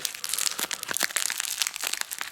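A knife slicing through the taped corner of a package, producing crackly crinkling and scraping of tape and cardboard in quick irregular bursts, close up with no talking.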